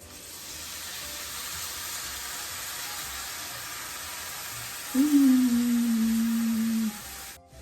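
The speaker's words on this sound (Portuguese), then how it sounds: "o contato do vinho com a panela quente evaporar imediatamente o álcool" Wine hits a hot pan during mushroom risotto cooking with shiitake and shimeji, giving a steady hiss, then a sharp louder sizzle bursts in near the end and fades out abruptly.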